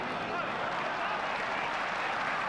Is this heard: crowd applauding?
yes